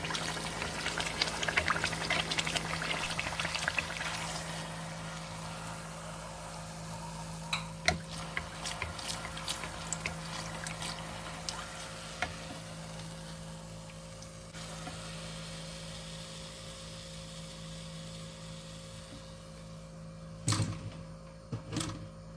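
Continuous sizzling and bubbling of hollow donuts frying in hot oil, with occasional clinks and a low steady hum underneath.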